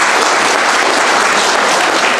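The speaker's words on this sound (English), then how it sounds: "Let's give her a round of applause." Steady, dense applause from a crowd, many hands clapping continuously at an even loudness with no voices on top.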